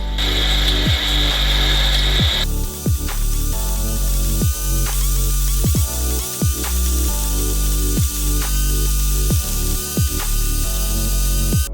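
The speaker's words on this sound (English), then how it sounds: "To power this wood chipper, 2 angle grinders and 22 circular saw blades were used." A homemade wood chipper driven by two angle grinders and twenty-two circular saw blades runs loud and continuous, with a high motor whine and repeated sharp chopping bursts as wood is fed through at a steady rhythm.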